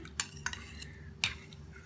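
A spoon clinks and scrapes against a small bowl while mixing onion juice and potato juice together, a few quick irregular taps close by with no talking.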